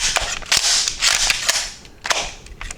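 A Steyr MPi 81 submachine gun fires a run of loud, close, sharp shots in quick irregular succession, each crack ringing briefly before the next.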